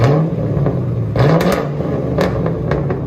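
A Ford Mustang engine revs and burbles up close, rising and falling in short pulses over a few seconds with no talking, reaching about 109 decibels.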